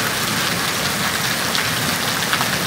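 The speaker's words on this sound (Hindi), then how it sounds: "ये इस कदर ग्याला बारी हुई है, ओले पड़े हैं" Heavy hail pounding down during a violent storm in Taxila, with a dense, steady roar of impacts close by and no talking.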